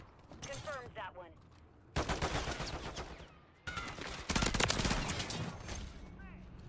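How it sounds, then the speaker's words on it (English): Call of Duty: Modern Warfare 3 multiplayer gunshots, including a BP50 conversion kit rifle, come in loud broadband bursts of rapid fire separated by brief gaps, mixed with game sounds and spoken chatter. "What was those shots?"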